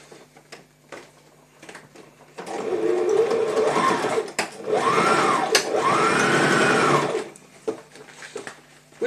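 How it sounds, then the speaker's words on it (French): A domestic sewing machine runs the final topstitching on a bag in two sustained, loud whirring bursts of about two and three seconds, with brief pauses and faint handling clicks around them. "Et là, du coup, dernière surpiqûre."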